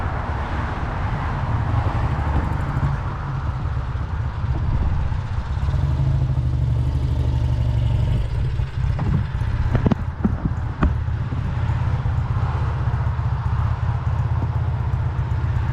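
An Indian Roadmaster motorcycle on a test ride, its engine a steady low rumble at a cruising pace, close and continuous, with a few clunks and knocks near the middle and no talking.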